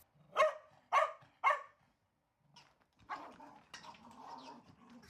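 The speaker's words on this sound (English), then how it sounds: "He loves it and will play and bark at it as long as it's on the floor." A two-year-old puppy barks three sharp times in quick succession while playing with a toy, then growls and yips more softly and irregularly, close by.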